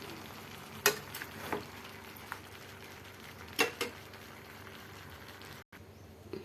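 Turmeric-spiced curry sizzling in a pan while a spoon stirs it, with steady broadband frying hiss and a few sharp scraping clicks, close and moderately loud, no talking.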